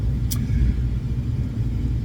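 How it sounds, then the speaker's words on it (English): Steady low exhaust rumble from a Mercury Cougar with a 351 V8, idling close by for about two seconds with no voices. "it is so nice to just hear that rumble from the exhaust"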